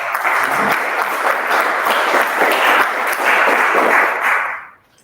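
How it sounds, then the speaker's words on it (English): Applause from the audience at a Toastmasters meeting, dense steady clapping that fills the room for over four seconds before tapering off and stopping. "So please welcome him with a big round of applause"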